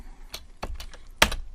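Keystrokes on a computer keyboard: five or six separate taps spread irregularly over a moment and close by, with a sharper double strike near the end and no voices.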